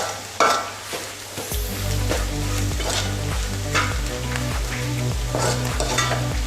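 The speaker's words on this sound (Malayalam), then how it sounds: "എന്നിവ ചേർത്ത് നന്നായി വഴറ്റുക" Onions and spices for chicken curry sizzle and are stirred in a hot pan, with a steady frying hiss and occasional spatula scrapes over rhythmic background music.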